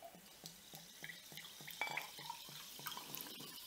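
Chilled sparkling water is poured into a glass, giving a rhythmic series of gurgling glugs with faint fizzing, quiet and close, with no talking.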